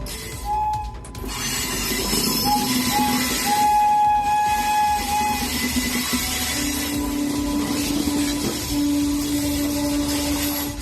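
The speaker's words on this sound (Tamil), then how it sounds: "வந்தே பாரத் ரயில் பாதியில் நின்றபோது அதனை சரக்கு ரயிலின் எஞ்சின் இழுத்துச் சென்ற காட்சி இது" A stalled Vande Bharat express train being hauled by a freight locomotive; steady rumble of a moving train throughout with intermittent short horn or whistle tones and a sustained mid-pitched squeal toward the end.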